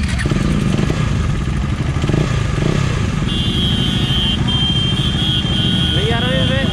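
A KTM Duke motorcycle with an aftermarket exhaust idles with a loud, steady rumble, and people talk close by over the engine noise.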